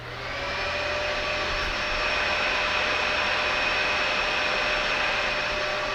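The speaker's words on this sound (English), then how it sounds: "let's turn on a household vacuum to establish a baseline" A household vacuum cleaner runs steadily and loudly throughout, with a constant broadband roar and a high motor whine after a brief start-up swell.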